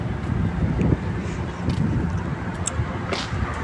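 Strong hot wind off a hill buffets the microphone in a steady, rough rumble, gusting unevenly with no talking.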